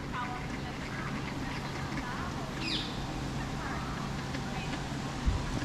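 Swans and other water birds call intermittently in a noisy outdoor setting in Bruges, with one clearer honk-like cry midway and a constant low background hum.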